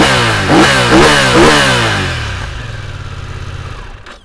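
A BMW F900XR sports tourer motorcycle's engine revs sharply three times in quick succession, then settles into a lower, fading idle, loud and close without speech.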